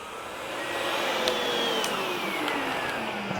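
A Sebo Felix upright vacuum running on thick carpet at its highest suction setting, a steady close whirring roar that holds throughout, with a faint tone sliding slowly downward as it is pushed back and forth.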